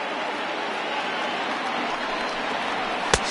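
A stadium crowd in the baseball video game MLB The Show roars steadily, a dense wash of cheering held at an even level, with a sharp crack near the end.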